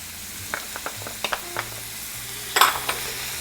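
Vegetables with chopped garlic and fresh rosemary sautéing in a pan, a soft low sizzle broken by a handful of light taps and scrapes from stirring, ending in one louder clatter; no talking.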